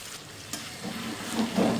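Potatoes with black pepper and green chillies sizzle in a kadhai over high flame, a steady close frying hiss with light stirring scrapes that grows slightly louder toward the end.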